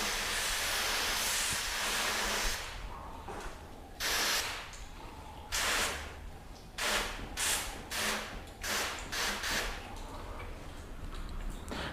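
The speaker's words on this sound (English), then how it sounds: "Okay, so we're in a mist function on the hose." A garden hose on its mist setting spraying water over a car's ceramic-coated paint, a continuous airy hiss at first, then broken into a series of short, rhythmic spray bursts, fairly close.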